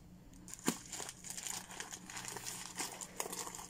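Plastic bag of sunflower seeds crinkling in a shop in Alanya, Turkey, a soft, continuous rustle with a few sharper crackles, faint and close.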